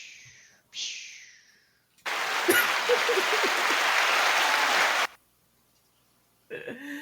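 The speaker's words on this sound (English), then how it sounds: "Now that was an applause." A burst of audience applause at a live comedy-style show lasts about three seconds at close range and then cuts off, with brief vocal sounds before and after it.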